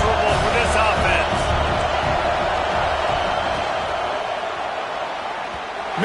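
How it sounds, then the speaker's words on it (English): A loud, dense crowd roars without a break in a packed stadium during a BYU versus Tennessee college football game, with the noise easing slightly toward the end. "This crowd trying to make life miserable for this offense."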